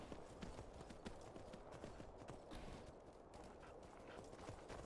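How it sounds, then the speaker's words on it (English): Horse hooves clip-clop across open ground in Skyrim, a quick, steady run of close, sharp hoofbeats that keeps going throughout the clip. "There's a horse out here."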